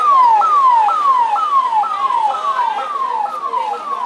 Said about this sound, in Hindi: एम्बुलेंस को जाने दीजिए,